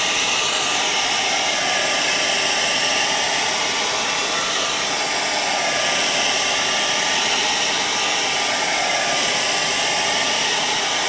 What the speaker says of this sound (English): So we're going to turn the dryer on and do exactly what I just showed you.